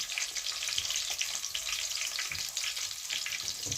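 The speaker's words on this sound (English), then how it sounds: "Add some ginger, garlic, pimento seed added to the oil, flavor the oil like that, right?" Ginger, garlic and pimento seed fry in hot oil with a dense, steady, close sizzle and crackle that holds at an even level throughout, with no talking over it.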